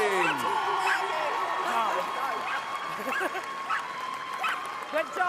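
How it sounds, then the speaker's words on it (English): A crowd at a junior flyball dog racing final applauds the winning team, with scattered cheers and whoops over the clapping and an announcer's voice speaking on top throughout. "give a huge round of applause to your winners"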